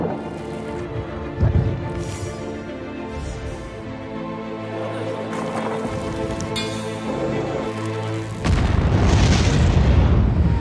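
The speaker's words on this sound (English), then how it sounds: "Liftoff, we have a liftoff" Rocket launch at liftoff, a broad roaring rumble with crackling bursts that builds, then surges to a louder, dense roar near the end; no talk.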